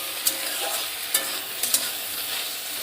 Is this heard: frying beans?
yes